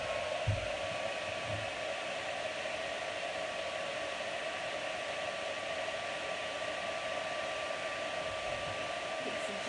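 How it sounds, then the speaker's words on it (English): A heat tool for heat embossing on a card blows with a steady, loud whooshing hiss that runs without a break throughout as it warms up. "Just a second for your heat tool to get up to temperature."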